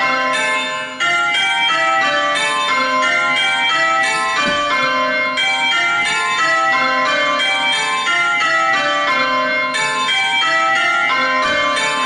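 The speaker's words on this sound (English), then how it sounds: "This method has 2 hunt bells." Tower bells ring a plain course of Slow Course Minor on six bells with two hunt bells, a steady loud cascade of overlapping clear strikes in even rows running throughout with no talk.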